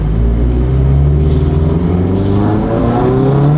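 A turbocharged Toyota FR-S spins its wheels as it accelerates hard, its steady loud engine drone rising slightly in pitch over a few seconds, close by and without talk.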